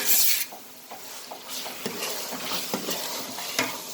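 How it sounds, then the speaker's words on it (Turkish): Green peppers, onions and meat for a Turkish türlü stew sauté in a pan, a steady sizzle broken by repeated scrapes and knocks of a utensil against the pan, close and without speech. "Biberimizi soğanımızı kavurduk etimizle beraber"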